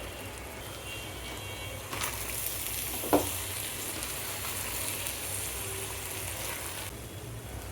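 Ginger and garlic paste frying in a pan while beef bhuna khichuri is cooked, a continuous moderate sizzle with a brief clatter near the middle, and no voices.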